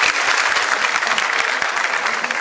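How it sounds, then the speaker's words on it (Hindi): An audience in an indoor hall at a corporate achievers' day event bursts into loud, steady, dense applause that carries evenly from start to finish. "एक बार जोरदार तालियां आप सभी लोगों के लिए"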